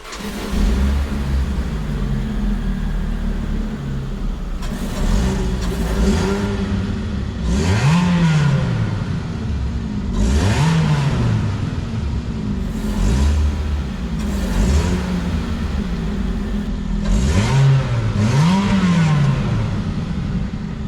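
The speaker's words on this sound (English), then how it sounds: "It doesn't sound that raw, but it has a nice supercharger whine." A supercharged Abarth engine idling roughly nearby on a cold start, blipped several times, each rev bringing a rising and falling high-pitched supercharger whine.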